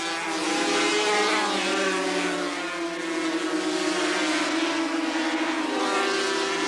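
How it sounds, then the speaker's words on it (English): Loud, continuous high-revving engine roar from 250cc and 350cc racing motorcycles sweeping past at the 1984 Bathurst 350 GP race, with layered exhaust notes rising and fading and no voices. "Mixture of 250cc and 350cc motorcycles in this event."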